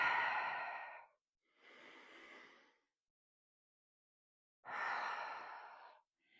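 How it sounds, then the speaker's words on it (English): Heavy exhalations from a pregnant woman doing lunges in a third-trimester workout, three long breaths out with pauses between, close and fairly loud, then a brief fourth starting. "Breathing out on the way up"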